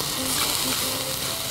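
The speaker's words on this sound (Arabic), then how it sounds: "نشوي الفراخ بتاعتنا على النواحي كلها" Chicken searing in a pan for an Egyptian chicken and orzo casserole, giving a steady, bright sizzle close up with faint stirring, and no talking over it.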